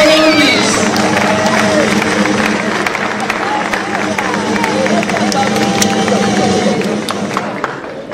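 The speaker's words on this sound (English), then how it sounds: "Clap for them," Audience clapping and cheering for award winners at a ceremony, a dense wash of applause mixed with shouts and crowd chatter that runs steadily across the whole stretch.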